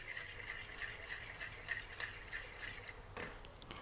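Oil and egg are whisked together in a bowl with a utensil for homemade pizza dough, a quiet, continuous rhythmic scraping and clinking with no talking.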